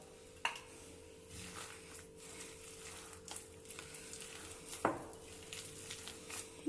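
Potato kabab mixture being mixed with bread crumbs in a bowl: soft, steady stirring and squishing with a couple of sharp clicks against the dish, heard close up with no talking.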